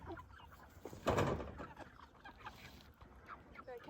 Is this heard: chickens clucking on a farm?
yes